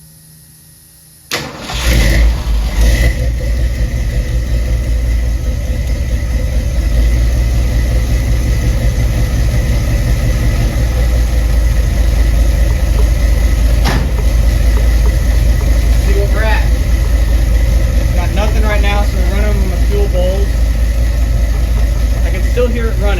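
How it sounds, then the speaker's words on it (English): A 1975 Ford F-100 pickup cranks briefly, fires up and settles into a loud, steady, rumbling idle close by, with a few faint voices in the background. "I'm gonna crank it up, see if I can get it to run and pick up some fuel."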